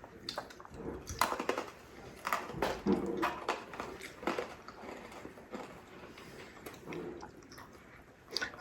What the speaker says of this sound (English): Those chips are really crunchy.